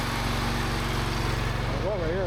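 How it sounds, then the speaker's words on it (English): A lawnmower engine runs steadily close by with a fast, even putter and a low hum. A brief wavering tone rises and falls near the end. "he's scared of those noises of the lawnmower"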